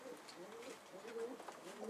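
A pigeon coos nearby in soft, rolling low calls repeated several times, faint against background noise with no talk.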